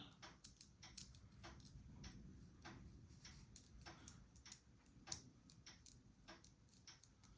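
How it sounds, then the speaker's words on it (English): A small mini ratchet from a budget auto tool set, taking screwdriver bits, clicks in a quick irregular series of sharp ticks, close and fairly quiet, with no talking. "Yeah, it's ratcheting."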